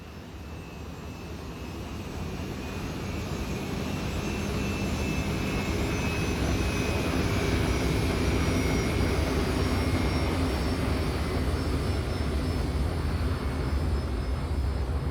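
A jet airliner in flight in X-Plane 11 gives a loud, steady engine roar that swells over the first few seconds, then holds as an unbroken drone with a faint high whine on top.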